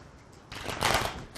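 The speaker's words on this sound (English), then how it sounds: "Shuffle, cut, rearrange, and then the cards are placed face down." Tarot cards are shuffled and cut by hand in a single brief riffling burst that swells and then fades, close and alone with no talk.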